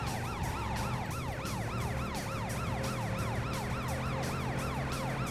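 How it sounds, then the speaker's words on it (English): Wailing police-style car sirens from the driving video game Driv3r, loud and continuous with a rapid repeating up-and-down yelp over a steady engine drone, no voices. "Put the sirens on."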